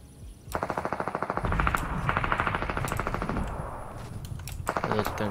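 Rapid automatic gunfire in a video game, tight bursts of evenly spaced shots that stop and restart, plus a few single cracks, fairly close, with faint talk underneath.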